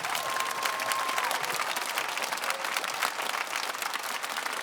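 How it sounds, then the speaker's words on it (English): A theatre audience at the London Palladium gives a sustained round of applause, dense and continuous crowd clapping with faint cheering mixed in, steady in loudness from start to finish. "They deserve a huge round of applause."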